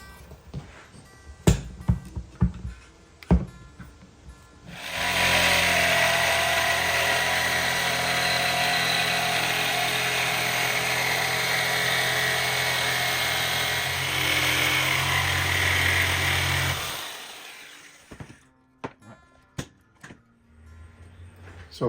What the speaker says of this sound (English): we're just going to cut this with a jigsaw